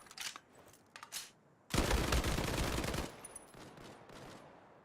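Gunfire from an StG rifle in the World War II shooter Blitzkrieg, during a competitive match on the Coastal map: a few short scattered shots, then one dense, loud automatic burst lasting over a second before fading to quieter shots.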